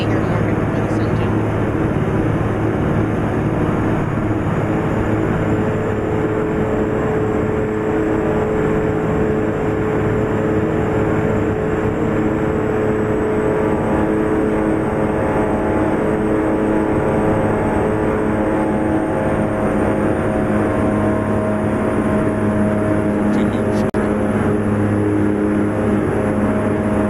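Loud, steady truck engine drone from American Truck Simulator with realistic mods, a constant low rumble that runs unbroken throughout with a voice faintly beneath it.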